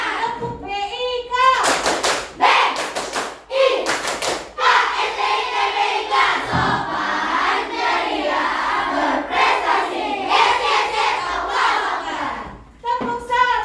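Schoolchildren in an Indonesian classroom perform a rhythmic clapping chant, sharp bursts of loud claps alternating with group shouting and a teacher's voice, crowded and close.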